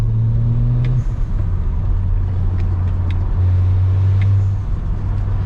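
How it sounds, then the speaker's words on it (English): A BMW E92 335i with no catalytic converters and an exhaust that is essentially straight pipe up to the rear box gives a steady, low droning hum from inside the car at a constant speed, with no voices. "The exhaust is pretty much like a straight pipe up until the back box."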